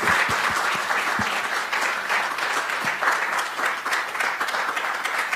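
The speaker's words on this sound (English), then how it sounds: "let's thank Namir again with a round of applause" A presentation audience at the UN Food and Agriculture Organization applauds Namir, steady moderately loud clapping with individual sharp claps standing out throughout.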